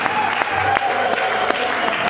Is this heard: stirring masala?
no